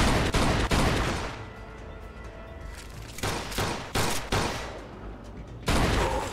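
Loud, dense bursts of automatic gunfire in the video game Mafia 2, with sustained spraying fire broken by short pauses and no talk over it.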